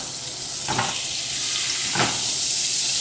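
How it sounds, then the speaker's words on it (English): Butter melts in a brand new sauté pan with a steady, close sizzling hiss. Two soft scraping clicks come from the pan along the way, and no one speaks. "throw in a pat of butter. Just let that melt a little bit"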